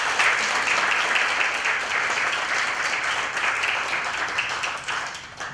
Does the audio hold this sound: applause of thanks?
yes